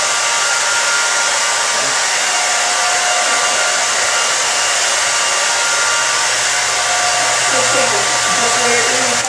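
A hair dryer blows steadily on a short spiky ladies' haircut in a barber shop, a loud, constant airy roar with a faint whine, running unbroken throughout.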